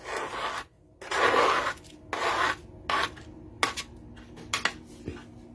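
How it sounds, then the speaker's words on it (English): Pampered Chef scraper rasping across a work surface to clear paper scraps, in several short rough strokes of varying length, close and fairly loud, followed by a few quick scrapes and light taps. "we'll use the Pampered Chef scraper and throw all the bits in the trash can"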